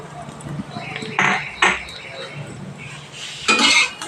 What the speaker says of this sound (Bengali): এক পিঠ ভাজা হয়ে গেলে আমি আর এক পিঠ এইভাবে উল্টিয়ে দেবো